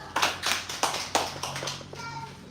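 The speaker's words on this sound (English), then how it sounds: "Clap for yourself." Students in a seminar or training class clap for themselves after a drill: a few scattered, uneven handclaps spread over a couple of seconds, fairly faint, with some quiet background voices.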